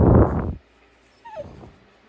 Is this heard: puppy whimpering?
yes